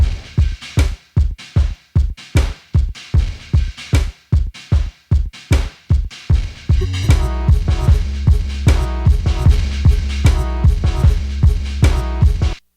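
A wonky vocal chop beat with drums and a four-on-the-floor kick: sparse punchy kicks and hits march steadily, then a dense layer of chopped vocal stabs joins for a fuller, continuous groove.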